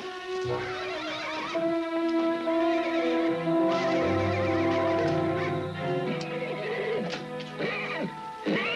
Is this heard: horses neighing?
yes